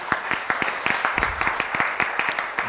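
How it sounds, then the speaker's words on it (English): A crowd claps steadily, a fairly dense round of applause with distinct individual hand claps throughout. "A big round of applause for her, please."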